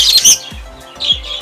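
Pet lovebirds give a few sharp, close chirps and squawks in quick bursts, separated by short quiet gaps.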